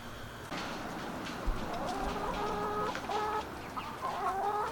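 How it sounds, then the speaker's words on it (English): Chickens clucking nearby in a garden, several short repeated clucks and murmurs over a steady outdoor background. "ignore my little entourage of chickens here"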